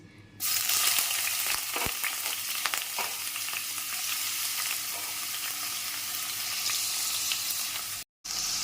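Prawns dropped into hot oil burst into a loud, bright sizzle that starts abruptly and holds as a dense crackling hiss, with a few stirring knocks, before cutting off briefly near the end.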